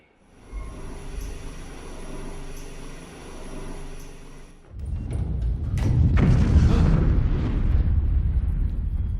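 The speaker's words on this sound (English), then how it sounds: "You hear a thunderous explosion." In a video game, a quiet, steady drone gives way to a sudden loud explosion, followed by a heavy, sustained rumbling roar that keeps going.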